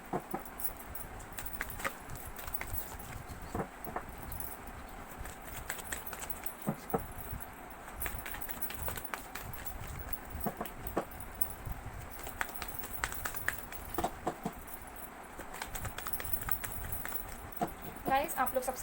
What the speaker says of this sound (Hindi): आज मैं शफलिंग कर रही हूँ